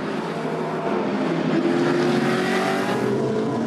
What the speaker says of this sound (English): The safety car pulls clear and the cars head off